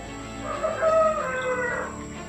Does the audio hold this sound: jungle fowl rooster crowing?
yes